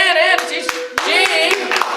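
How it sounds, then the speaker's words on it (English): Audience clapping for a volunteer at a live presentation, short and fairly close, with a voice talking over it and a few sharp individual claps standing out. "Big round of applause for Ann."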